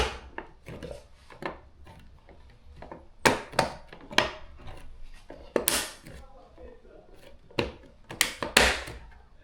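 Plastic trim clips snapping into place on a BMW X5 M Sport, a series of sharp, close cracks and pops in irregular bursts, some loud, with scraping handling noise between them.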